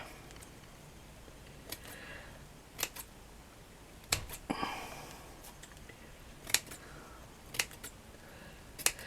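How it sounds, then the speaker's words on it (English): Scissors snip around a piece of thick, soft felt for a handmade flower and wall plaque craft, giving a scattered series of short, crisp cuts at irregular intervals, close and fairly quiet over a faint room hush. "we're going to cut that like that. Just snip it all the way around."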